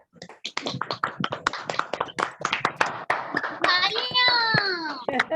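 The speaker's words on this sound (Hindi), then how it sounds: "एक बार प्लीज इन सबके लिए तालियां बजा दीजिए" Scattered, uneven hand claps from participants on an online closing ceremony call for a girls' camp, crisp taps close to the microphones, with a young voice rising over the claps near the end.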